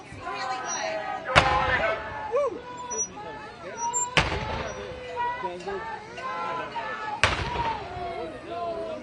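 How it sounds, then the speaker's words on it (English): Three loud, sharp cannon-like booms at roughly three-second intervals ring out over a street protest outside the White House, with a crowd murmuring and people talking throughout. "Cannon? Sounds like cannon."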